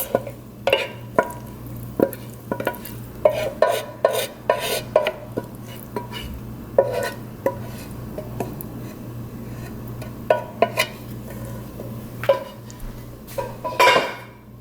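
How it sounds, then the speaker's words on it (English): Ground beef with green peppers and onions is stirred in a pan, a utensil scraping and clanking against the metal in irregular bursts over a low steady hum, close by. "now I'm gonna add in my ground beef"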